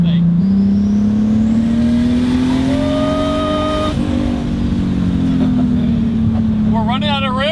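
A single-turbo BMW 328is accelerates hard through the gears, heard from inside: a loud, close engine drone climbing steadily in pitch with a brief shift dip, and a short excited voice near the end.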